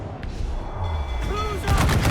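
Sailing-ship cannons boom in Assassin's Creed 4 Black Flag, a couple of heavy blasts in quick succession amid the rumble of a naval battle, with shouted crew voices over the din.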